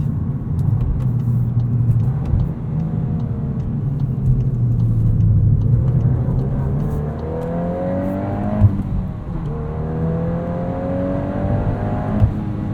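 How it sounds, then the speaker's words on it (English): A 2022 Volkswagen Golf R's 2-liter turbocharged engine with a 6-speed manual drones and rises through the revs, dipping and climbing again between gear changes, heard from inside with a steady rumble. "Love the way this sounds between shifts too. This 2-liter turbo is just so responsive."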